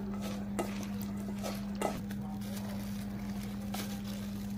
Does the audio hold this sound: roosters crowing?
no